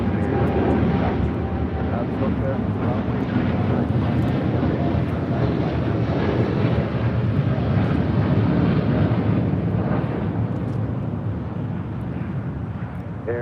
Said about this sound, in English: This is United Airlines 745 taking off to Chicago O'Hare on the 787-9 Dreamliner.